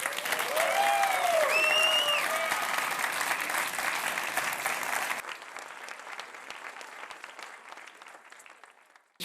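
Audience at a European youth awards gala applauds the winners, a full, loud round of clapping with a few whoops over it, then dropping to quieter, thinner applause for the last few seconds.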